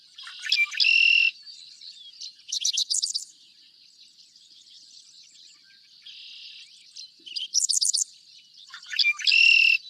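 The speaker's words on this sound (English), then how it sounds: "So this is the song of the Redwing Blackbird." A red-winged blackbird sings its buzzy, trilling conk-la-ree phrase several times, loud and close, with short rattling notes in between and steady insect-like background chirping.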